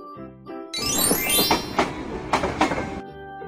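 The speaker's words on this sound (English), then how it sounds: "Train." Cartoonish train sound from a toddler vehicle puzzle game, a short burst of bright chiming and rolling noise that lasts a couple of seconds between soft musical notes.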